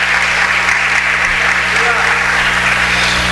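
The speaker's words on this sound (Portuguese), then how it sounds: "Aplauda ao Senhor" A church congregation claps at an evangelical service, steady dense applause throughout with a low hum underneath and a voice speaking over it.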